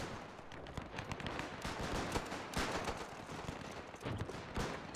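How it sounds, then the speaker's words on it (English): Dense battlefield gunfire and artillery in the World War I video game Between Empires, a rapid, continuous crackle of shots and booms, fairly distant and muffled, with no talk. "Currently the artillery is focusing in on the first redoubt."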